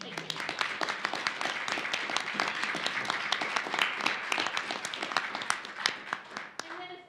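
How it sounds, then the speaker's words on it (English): Symposium audience applauding its speakers and a professor's book: sustained crowd clapping with crisp individual claps, moderately distant and fairly quiet, tapering off at the very end. "a huge round of applause for the seminal book written by Professor Lambert"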